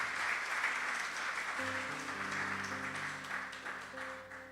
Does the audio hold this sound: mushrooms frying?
no